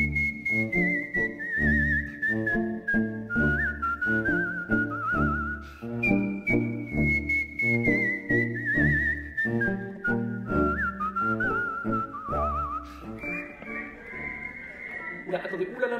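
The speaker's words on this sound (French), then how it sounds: "il siffle plutôt de la musique classique" A person whistles a classical melody in long, flowing phrases with gliding pitch and ornaments, loud and close, carried continuously over a low accompaniment.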